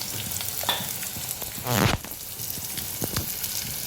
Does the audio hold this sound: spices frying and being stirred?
yes